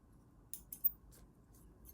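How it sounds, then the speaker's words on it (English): A few quick, crisp snips of small scissors cutting thread while sewing lingerie, close by, faint and brief, over a quiet room background. "I like to always cut my thread as I go as well"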